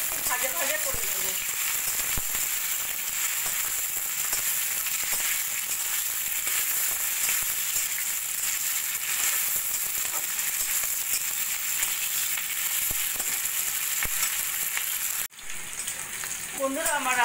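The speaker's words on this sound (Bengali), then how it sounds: "সব কিছু একটু ভাজা ভাজা করে নেবো।" Onion, tomato and spices fry in a pan with a steady, dense sizzle that stays close and even throughout, briefly dipping near the end.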